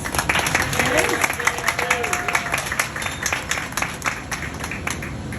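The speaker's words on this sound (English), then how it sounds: "Let's give him another round of applause." An audience at the Space Needle in Seattle applauds a glassblower after a glass vase demonstration, with steady, dense clapping that holds throughout, moderately loud and mixed with faint crowd noise and a little talk.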